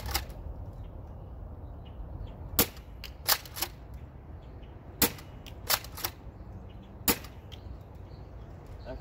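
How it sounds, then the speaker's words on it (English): Several sharp, sparse shots from a Nerf blaster fitted with a red dot optic, fired at a bucket about 40 feet away, each a crisp snap standing alone over quiet room tone. "First thing I'm going to do is take some preliminary shots to see where I'm at."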